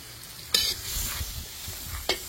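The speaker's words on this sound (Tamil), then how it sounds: "நீ பொரிக்க போற நீ பொரிக்கிறேன்டா" Green chillies sizzle and crackle in a hot pan while stirred, with two sharp bursts of spattering over a low ongoing fry.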